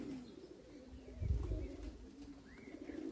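Soft cooing of racing pigeons in low murmurs beneath faint outdoor ambience, with a brief chirp near the end; no one speaks.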